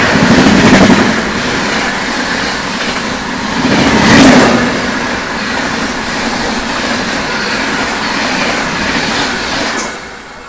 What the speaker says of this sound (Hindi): फिर से कोई गाड़ी हम लोग ओवरटेक करने आ रही है